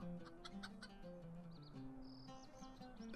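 A chicken clucks in the fantasy online game Lord of the Rings Online, with short repeated clucks and chirpy calls over a steady bed of game ambience and music.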